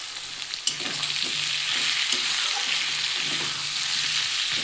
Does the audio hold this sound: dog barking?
no